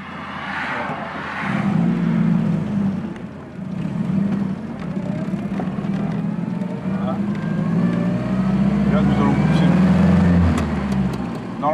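A Citroën Traction 11 BL with drum brakes pulls away on a road, its low engine note droning and rising as it accelerates, with wind and road noise, while someone talks over it.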